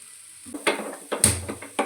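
Spices hit hot coconut oil for a tempering for kokum rasam, giving short sizzling bursts with clinks of a pot and spoon, close by and with no talk.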